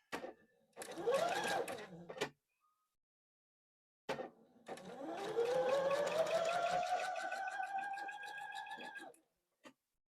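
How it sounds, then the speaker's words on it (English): A sewing machine stitches fabric squares corner to corner in two bursts. Each burst whines up in pitch as the machine speeds, with a pause between them. It is close with no talk. "we are going to sew corner to corner that way now"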